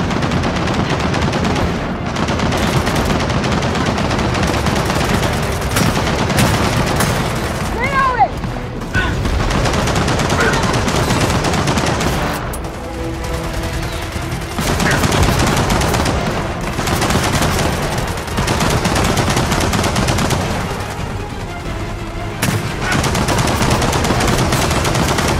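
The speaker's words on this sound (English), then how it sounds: "Machine gun nest!" Sustained bursts of machine gun fire from an emplaced gun nest in Gears of War 4 dominate, loud and dense with brief pauses, mixed with other gunfire, explosions and shouted voices in the chaos.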